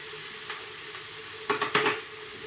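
Meat sears in a hot pan with a faint steady sizzle, then a couple of brief louder bursts of crackling and spattering near the end, heard close with no voices.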